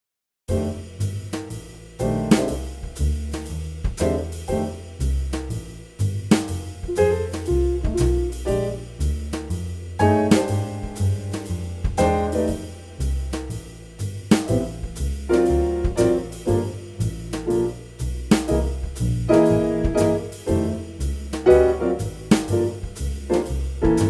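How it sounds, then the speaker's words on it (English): A full jazz combo plays: piano comping chords punctuating the rhythm over a walking bass line and steady drums, loud and continuous throughout. "The piano is basically playing chords and rhythm behind that driving bass and drum line."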